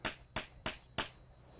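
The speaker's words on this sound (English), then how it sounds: "with a small hammer so we don't beat up the wood, we'll drive the nail" Small hammer driving a nail into pecan tree wood during bark grafting, four sharp evenly spaced taps in quick succession, close and clear with no talk.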